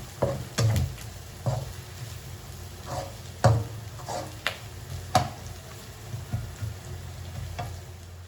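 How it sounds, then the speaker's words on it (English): Kaffir lime leaves, lemongrass, curry leaves and dried prawns fry in a pan, a steady low sizzle broken by repeated stirring scrapes and knocks at an uneven rhythm, close and moderately loud, with no talking. "Okay, fry all this. Fry until it's very, very aromatic."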